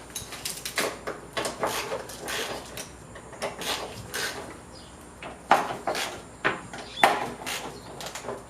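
Metal clunks and scraping knocks as a front door on a 1988–91 Honda Civic shifts on its loosened hinge bolts, several sharp irregular impacts with short gaps, close by in a quiet garage.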